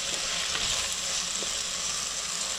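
Potatoes and onion greens fry in a pan while being stirred, with a dense, close sizzle running steadily throughout and soft scraping movements mixed in. No talking.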